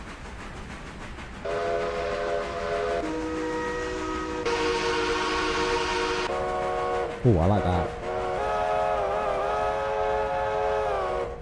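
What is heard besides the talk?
train whistle in the Railroader video game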